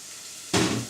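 Shallots hit hot extra virgin olive oil in a pan with a sudden loud sizzle halfway through, the hiss holding steady and close after a quiet start.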